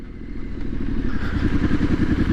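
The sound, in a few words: Triumph SS 900 motorcycle riding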